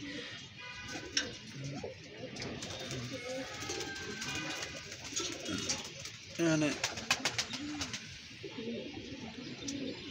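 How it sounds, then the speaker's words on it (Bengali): Pigeons coo repeatedly inside a pigeon loft, with soft overlapping calls and occasional wing flutters, while a person speaks over them at close range. "এখানে কিছু পুরানো কবুতর, আর এখানে এগুলো সব লাগানো কবুতর।"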